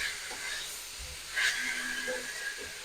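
Cauliflower and potato pieces stir-fry with spices in a hot pan, giving a soft continuous hiss with a brief louder surge partway through.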